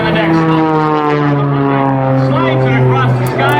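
Propeller aerobatic airplane roaring past low over the field at about 220 mph during the Laredo WBCA Stars & Stripes airshow, a loud, steady engine drone with strong harmonic whine close by.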